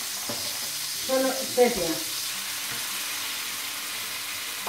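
Cuttlefish and squid sizzle and fry in a pan for a cuttlefish paella, a steady close hiss with brief stirring bursts, while a voice speaks briefly over it.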